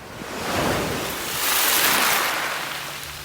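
Ocean waves wash up on a beach in North Naples, Florida, two broad swells of rushing surf with wind noise, loud and close, rising and falling without any talking.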